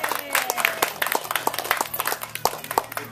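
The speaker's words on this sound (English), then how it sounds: "I think you give him a big round of applause." Scattered applause from an outdoor audience at a Scottish weapons demonstration at Glamis Castle, uneven claps rising and falling in brief bursts with some background voices mixed in.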